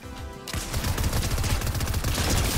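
Rapid automatic gunfire in a shooting video game bursts in after a brief quiet start and continues as a loud, dense rattle of shots to the end.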